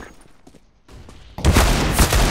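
Loud, dense automatic gunfire from a Counter-Strike: Global Offensive match erupts suddenly after a quieter stretch of faint game noise, sustained rattling bursts close up.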